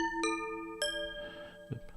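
Two clear bell tones from a software synthesizer plugin strike in succession, each ringing out with bright sustained overtones, followed by a faint soft knock.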